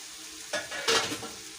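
Boiled chicken is tipped into a pan of softened, sizzling vegetables in sauce for a pasta dish. A soft frying hiss is broken by two brief bursts of clatter and sizzle as the pieces land and are stirred.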